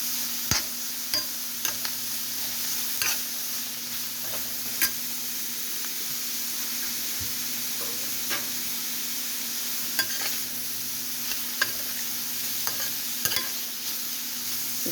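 Chow mein with pork sizzles and fries in a pan, a steady low hiss broken by occasional scraping stirs of a cooking spoon, close and moderately quiet.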